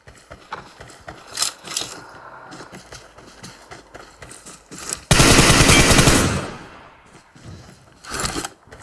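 PUBG Mobile gunfire, with a long loud burst of rapid automatic fire in the middle and scattered shorter shots and footsteps around it, close and forceful, with no speech.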